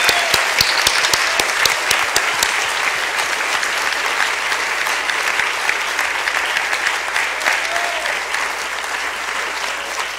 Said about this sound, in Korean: dele el aplauso más fuerte que pueda a nuestro Padre Celestial